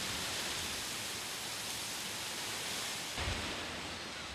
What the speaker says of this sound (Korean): 부두에 넘치는 파도를 보니 오늘도 배가 못 들어오는 모양이다.